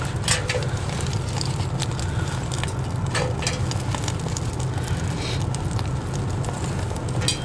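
A tinder bundle catches fire close by, giving a steady, loud hiss broken by small crackles and snaps that carry on throughout without pause.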